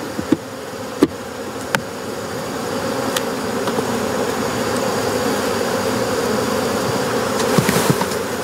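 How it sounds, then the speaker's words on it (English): Dense buzzing of many honeybees being shaken off hive frames close by, steady and loud, with a few sharp knocks and thumps as frames are handled. "I'm just going to shake the bees off."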